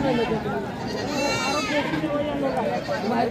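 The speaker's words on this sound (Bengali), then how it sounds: "আমরা দেখছি আজকে ঐতিহ্যবাহী ঢালাপির হাটে ছাগলের বাজার।" Goats bleating at a traditional livestock market's goat section in Bangladesh, steady overlapping calls amid a crowded, noisy background of people chattering throughout.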